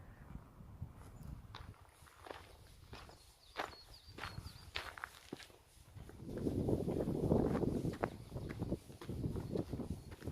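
Footsteps walk along a mountain road at the site of a 2009 bus crash on a downhill pass, a steady irregular run of close crunching steps with a louder broadband rumble swelling in the middle.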